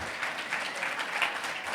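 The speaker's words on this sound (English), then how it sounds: "Big round of applause." A live audience claps for guests at a book talk event, a dense, even wash of applause that holds steady without pause through the short stretch.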